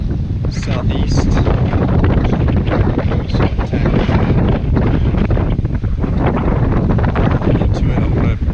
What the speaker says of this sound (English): the wind is coming right out of the southeast